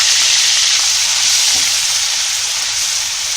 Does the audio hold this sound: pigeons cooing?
no